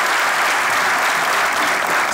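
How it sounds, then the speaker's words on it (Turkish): Studio audience applause from a Turkish comedy show, a dense, loud, continuous wash of clapping throughout. "Hocaya bir alkış."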